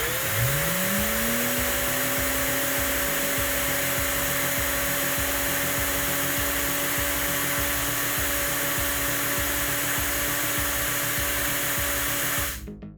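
Makita 18V cordless battery vacuum cleaner spinning up and running steadily against a fan: a loud, close motor whine that rises in pitch at start, holds a constant airy roar with a rhythmic pulsing undertone, then cuts off abruptly.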